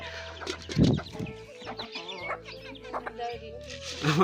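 Home-kept desi chickens cluck and chatter nearby, with a louder burst early on and steady murmuring calls throughout.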